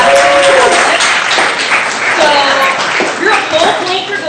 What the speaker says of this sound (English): I would say everyone give her a round of applause.